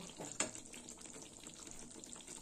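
Water poured into a cooking pan of pointed gourd in yogurt gravy, a soft, fairly faint splashing trickle with a brief louder splash early on, no talking.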